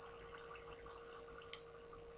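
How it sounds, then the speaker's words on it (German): Flowing water in Minecraft: a quiet, steady splashing trickle with soft drip-like ticks and one brief sharper splash, continuous through the moment. "guck mal das Wasser, wie das hier plätschert"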